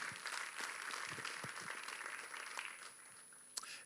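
An audience at the official presentation of the Tour de la Guadeloupe 2023 cycling race applauds, a quiet, distant patter of many hands tapering off near the end.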